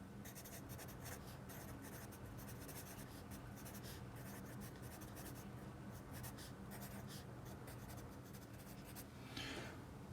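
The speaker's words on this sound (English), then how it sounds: "we're going to write out our problem" Pencil or pen scratching across paper as a math problem is written out, a continuous close, quiet run of short scribbling strokes with no talking.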